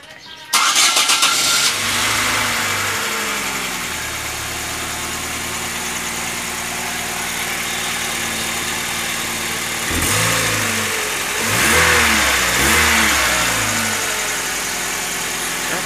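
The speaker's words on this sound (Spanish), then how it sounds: "voy a prender mi vehículo para asegurarme de que esté todo bien" A 2009 Chevy C3 car engine cranks and fires up loudly, then settles into a steady idle with a couple of brief revs later on, heard up close without talking.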